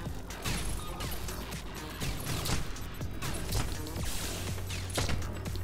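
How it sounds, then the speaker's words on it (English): Dense, continuous action in the video game SpiderHeck with repeated crashing explosion blasts and impacts layered over a busy rumbling mix, loud throughout. "So many explosions."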